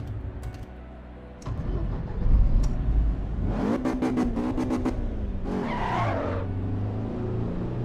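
A car laps the Nordschleife in Assetto Corsa Evolution, its engine climbing through revs, gear changes marked by sharp shifts in pitch, then a brief tire squeal and renewed acceleration, steady and fairly close.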